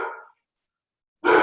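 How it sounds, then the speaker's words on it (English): Guard dogs barking indoors in the background: two separate loud barks, one cut off at the start and another near the end, with silence between them. "sorry about the dogs barking"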